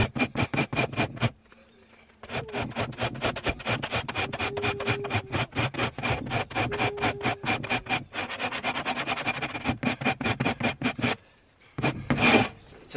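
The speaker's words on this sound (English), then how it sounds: "I used to just scrape them with the scraper" A sharp scraper rasps over a frozen beaver hide in cold weather, fast rhythmic strokes running almost continuously, with short pauses between runs.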